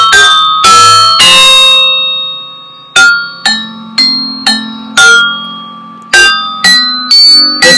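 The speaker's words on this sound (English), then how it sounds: "That is the metallophone. And you will notice that a pitch can play a melody." A classroom metallophone is struck note by note, each bright metallic tone ringing and decaying; a few quick strikes come first, then a slower, uneven melody of separate clear tones, loud and close.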